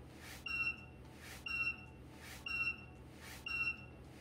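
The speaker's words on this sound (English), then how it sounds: "you'll hear a beep like this when the time is up" Four evenly spaced electronic beeps from a high-temperature lab muffle furnace timer, one per second, each a short high-pitched tone over a faint background hum.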